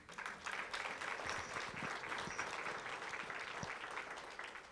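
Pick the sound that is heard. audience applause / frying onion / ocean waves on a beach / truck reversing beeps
audience applause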